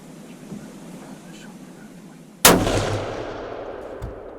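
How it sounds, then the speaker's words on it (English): A rifle shot fired at a buck during a deer hunt, a single loud sharp crack with a long rolling echo that fades slowly across an open field, preceded by quiet low outdoor background. "Kyler's first shot was a little low, but the buck stopped on the edge of the field, a quick follow-up shot, and Kyler's filled that buck tag."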